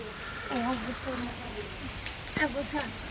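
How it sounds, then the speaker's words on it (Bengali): Heavy rain falls as a continuous wash of hiss in the background while people talk over it, moderately quiet and steady. "দেখতেই পাচ্ছ প্রচুর বৃষ্টি পড়ছে"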